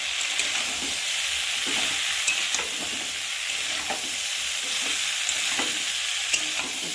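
Cabbage with spices fries in a pan while being stirred, an even, continuous sizzle with light scraping ticks from the spatula, no talking.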